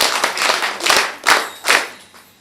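A crowd at a sewing-training closing ceremony breaks into applause, with several swelling waves of clapping that fade out toward the end, fairly loud with no talk over it.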